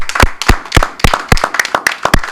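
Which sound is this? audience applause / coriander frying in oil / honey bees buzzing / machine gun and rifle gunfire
audience applause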